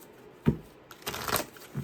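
Tarot cards are shuffled in a quick, soft riffle with a couple of crisp flicks and papery rustling, close and fairly quiet.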